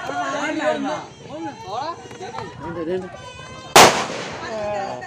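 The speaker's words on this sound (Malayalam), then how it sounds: "പടക്കം പടക്കം" A single sharp firecracker bang bursts out once amid continuous chatter from a crowd at a riverside Arattu temple festival in Payippad.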